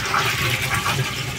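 A small electric motor pump on a thin pipe pushes water out of a drum, making a steady, loud gushing rush close by with no speech.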